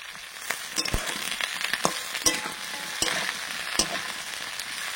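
Onion greens and crushed ginger fry loudly in a pan, a dense continuous sizzle broken by sharp, regular clinks and scrapes of the stirring spoon.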